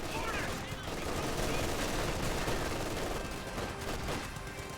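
Grenadiers open fire on enemy forces in Company of Heroes 2, a dense, continuous wash of gunfire and bursts filling the battlefield at steady loudness, with a voice talking over it.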